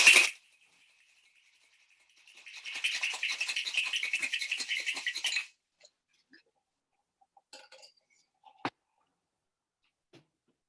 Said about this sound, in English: I'm going to shake this one a little bit harder and faster because I'm not whisking the egg with it.